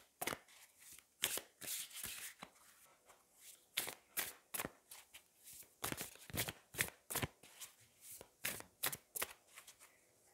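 Tarot cards shuffled by hand in rapid bursts of riffling and slapping, close and fairly loud, with short pauses between flurries and no voices.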